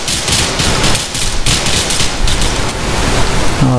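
Rapid gunfire in a video game aimed at a window, a loud, continuous burst of shots with crackling impacts throughout, a brief electronic tone near the end.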